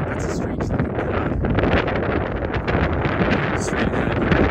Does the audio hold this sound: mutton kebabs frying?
no